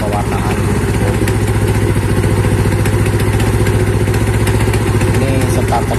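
A noisy Yamaha Mio Sporty motorcycle engine starts and idles loudly up close, a steady, clattering putter throughout, with a voice speaking briefly over it.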